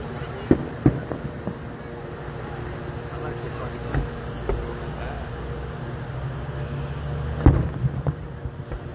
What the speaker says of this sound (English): this is the fireworks in Leitchfield